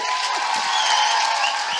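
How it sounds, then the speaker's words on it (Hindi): A church congregation claps together for God during a sermon, a steady wash of applause throughout with no voices standing out. "या ईश्वर के लिए ताली बजाएंगे।"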